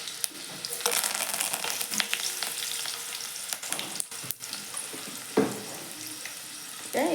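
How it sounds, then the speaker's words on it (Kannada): Garlic, cumin, mustard seeds and curry leaves frying in a pan give a steady close sizzle with soft crackles and brief stirring clatter throughout, with no talking. "ಬೆಳ್ಳುಳ್ಳಿ ಹಾಕ್ತೀನಿ, ಜೀರಿಗೆ ಸಾಸಿವೆ ಹಾಕ್ತೀನಿ, ಬ್ಯಾಡಲ್ಲಿ ಕರಿಬೇವು ಹಾಕ್ತೀನಿ."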